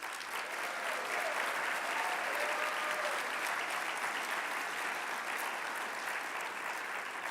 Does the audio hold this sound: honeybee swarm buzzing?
no